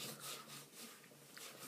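Toothpaste is rubbed onto a table surface by hand in a jail setting, producing a soft, rhythmic back-and-forth scrubbing at close range with no voices.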